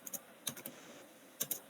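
Someone types a command on a computer keyboard: a few quick clicking keystrokes in small bursts, close and clear, with no talking.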